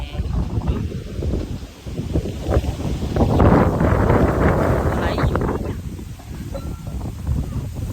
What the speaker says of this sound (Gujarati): જોઈ લો પવન સાથે ધુબાકા ઉડાડી રહ્યો છે.